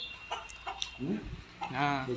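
A hen on a farm with ducks and chickens gives several short clucks, then a longer drawn-out call, close by, with people talking over and between the calls.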